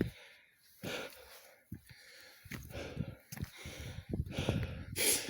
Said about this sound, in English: you can tell I'm starting to breathe a little bit heavier